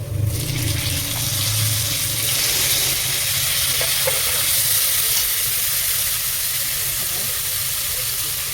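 Onions and tomatoes fry in a pan with a loud, continuous sizzle and crackle, close to the listener.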